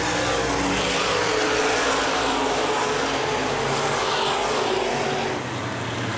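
Open-wheel modified race cars at Baer Field Speedway roar past in a feature race, a loud dense wash of engine noise that holds steady and dips slightly near the end.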